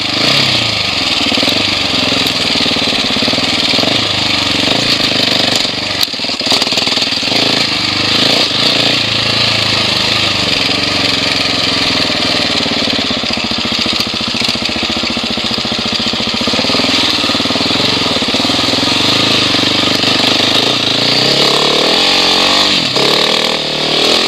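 Husqvarna 701 Enduro motorcycle (2017) ridden on an outdoor trail, its engine droning steadily and loud throughout with wind rush, occasional rises in pitch as the throttle opens, and a rider's voice faintly under the noise.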